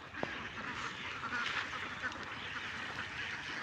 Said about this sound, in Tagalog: Kadaming itik.